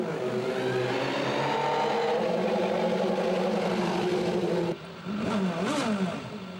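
A1GP Lola racing car with a Zytek 3.4-litre V8 racing engine screams loudly at high revs. The sustained roar holds steady, briefly dips, then returns with rising and falling revs.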